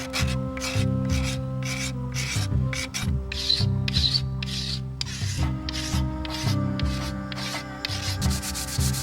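Wood rasp rounding the corners of a wooden primitive bow: a steady series of rough, scraping strokes in a regular back-and-forth rhythm, close and fairly loud, with no speech.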